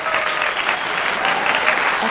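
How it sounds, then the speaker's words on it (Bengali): Loud, steady applause from a neighbourhood fashion show audience cheering on contestant Champa, dense clapping sustained throughout with no pauses. "চম্পার জন্য একটা জোরে হাততালি হয়ে যাক"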